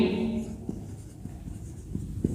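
Chemical formula being written by hand during a Hindi organic chemistry lesson on nucleophilic addition-elimination reactions, producing soft scratchy strokes with a few sharper taps, close and steady for a couple of seconds with no talking.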